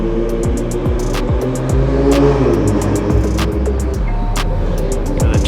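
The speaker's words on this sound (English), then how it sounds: "The turbo is so loud in this car." A tuned Toyota Supra with a turbocharged engine revs hard and accelerates up through several gears, loud and close throughout, its note climbing and dropping at each shift with no talking.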